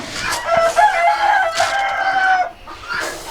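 A rooster crows loudly and close by inside a large chicken coop, one long drawn-out call followed by a second, with hens clucking around it and no talking.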